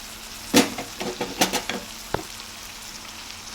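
Tomato pieces added to a curry cooking in a pan, giving a few scattered sizzles and soft stirring knocks against the vessel, with one sharp clink midway, fairly quiet and without speech.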